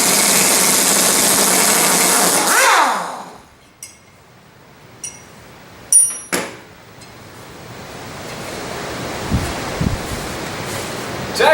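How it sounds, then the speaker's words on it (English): An Ingersoll Rand 231C pneumatic impact wrench hammering on a bolt: a loud, dense, continuous rattle for about three seconds that cuts off sharply, followed by quiet background with a few faint clinks and knocks. "how long do you think I'll have to lay onto this bolt before it's going to snap?"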